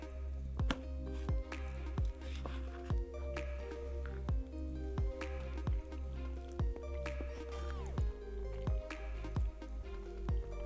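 Chewing a piece of meat from a Ukrainian army ration pack, heard as close, wet, squishy bites repeating in a steady rhythm with no talking.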